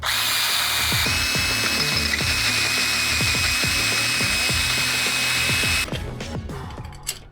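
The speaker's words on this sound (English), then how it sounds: "took a bit of drilling that, but finally it's got a clearance hole through there now" A power drill whines steadily at close range, grinding a clearance hole through metal on a Mercedes SL during water pump replacement, with rhythmic low knocks, then winds down near the end.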